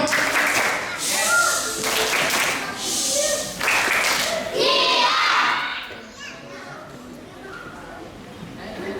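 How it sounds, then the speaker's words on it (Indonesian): Sunday school children do a rhythmic quiet clap, patterned group claps with chanted young voices in several bursts, then trailing off into quieter murmuring. "Masih ada. Sekali lagi."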